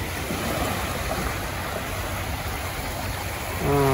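Sea waves wash steadily along a shore, a continuous broadband surf hiss with gentle swells, heard close and alone, with a faint voice starting at the very end.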